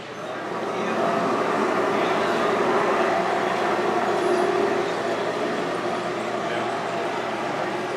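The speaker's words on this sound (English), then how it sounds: "Got another train making it around the mountain." A model train on a Christmas layout rumbles steadily along its track, with a continuous rolling clatter and faint voices in the background.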